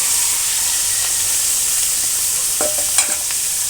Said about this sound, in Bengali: এই মাছটি ভাজা হয়,